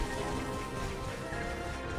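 Rain in the God of War video game falls as a dense, continuous hiss of drops, steady and fairly loud throughout the short stretch, with no voices.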